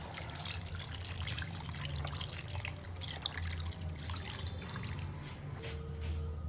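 Water poured into a pot of chicken stew vegetables, a soft steady trickling and splashing stream heard close and fairly quiet, with no voices.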